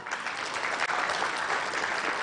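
Dense audience applause at an award ceremony for young scientist winners and runners-up, steady and continuous throughout with no voice over it.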